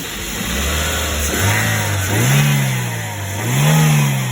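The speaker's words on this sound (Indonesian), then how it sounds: "Nah setelah itu kita dengarkan suara mesin." A car engine running during a used-car inspection, idling close by, then revving up and settling back twice in smooth swells.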